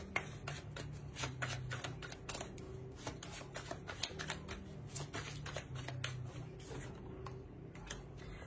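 Tarot cards being shuffled by hand, a quick run of crisp riffling flicks and taps in steady rhythm, close and fairly quiet.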